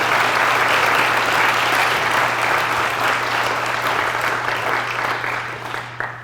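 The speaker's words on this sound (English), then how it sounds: "You can give a round of applause," An audience at a Founders' Day convocation applauds a councilwoman with loud, sustained, dense clapping across a large hall. The applause tapers slightly toward the end, with a low steady hum underneath.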